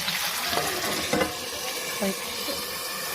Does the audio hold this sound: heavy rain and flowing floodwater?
no